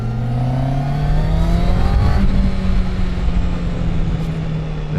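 A QJMOTOR SRK800RR sport motorcycle of about 95 horsepower pulls hard in third gear, its engine note rising steadily in pitch as it accelerates, loud and close, with wind rush and no talking.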